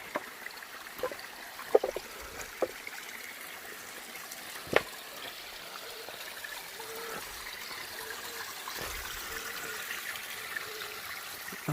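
Clean creek water trickles and flows steadily through a rocky creek bed in a ravine at Shades State Park, Indiana, a soft continuous burble with occasional faint knocks and no talk.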